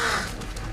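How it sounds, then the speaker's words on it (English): A crow gives a single short, harsh caw in the Once Alive video game, loud and close, then fades into a rough, noisy ambient wash. "Oh no. Crows."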